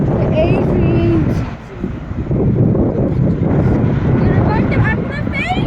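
Loud, steady jet roar from an Emirates Airbus A380 landing at Heathrow, with wind buffeting the microphone throughout and excited voices talking over the noise.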